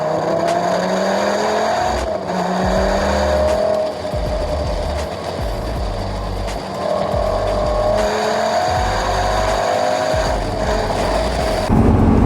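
A Lamborghini Gallardo's V10 engine roars loudly and continuously on a country road, revving up and down through gear changes with a raspy, close-up exhaust note and no talking.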